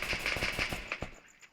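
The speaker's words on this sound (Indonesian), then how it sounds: "Wow, ada tembakan di sini" A quick burst of automatic gunfire in Free Fire on the Bermuda map, about eight rapid shots in a row followed by a couple of trailing cracks fading out.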